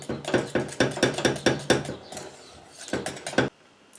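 Lasagne ingredients are stirred with Parmesan cheese in a dish, giving a run of sharp, rhythmic clinks and scrapes of utensil on bowl, close and loud, pausing midway before a few more strokes.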